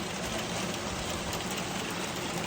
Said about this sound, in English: I'm out here moving the sheep and it started raining.